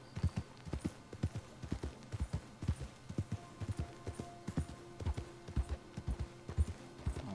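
Horse hooves clip-clop at a slow walk in the Red Dead Redemption 2 video game, a steady run of distinct close thuds in an even four-beat rhythm, fairly quiet, with no talking over them.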